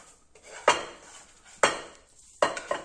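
Choucroute, sauerkraut with sausages, served from a frying pan onto a plate, with four sharp metallic clanks of a utensil against the pan at irregular intervals, close and fairly loud.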